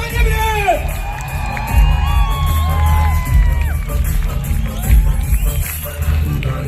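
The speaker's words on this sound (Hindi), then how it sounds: "Round of applause." A lively crowd cheers, whoops and shouts throughout as Bhushan Patel is welcomed onto the stage at a Safeshop network marketing event. The sound is loud and sustained, with excited high voices rising above a dense roar.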